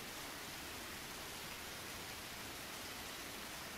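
Steady, even hiss of heavy rain in Akagawa Jiro Mystery Yasoukyoku, a continuous faint downpour with no breaks or other sounds.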